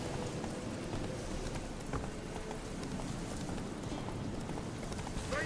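Roach the horse gallops in The Witcher 3, with rapid rhythmic hoofbeats on the ground running steadily throughout at moderate volume.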